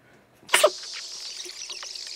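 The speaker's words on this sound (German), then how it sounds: "ich muss niesen" A single sharp human sneeze bursts out close by, followed by a faint lingering hiss, from a German-speaking gamer playing Call of Duty Cold War.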